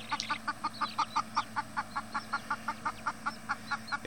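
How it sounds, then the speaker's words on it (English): Hens cluck in a steady, rapid series of short calls from a chicken tractor, close and fairly quiet over a low background hum. "And these two hens."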